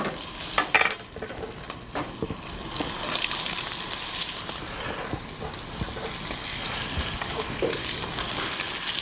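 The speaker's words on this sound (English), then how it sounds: "just as the pancetta begins to caramelize like that, we want the onions to go in" Onions go into a pan of caramelizing pancetta, setting off a steady, close sizzle with stirring scrapes and clacks early on, the frying hiss holding strong throughout.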